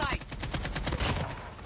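Rapid automatic gunfire from Call of Duty Mobile, a dense burst of repeated shots close and loud, ending in a headshot kill, with faint game ambience trailing off.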